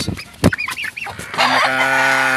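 Texas breed chickens clucking close by, a few short rising and falling calls over the first second and a half, then a steadier drawn-out cackle that holds to the end.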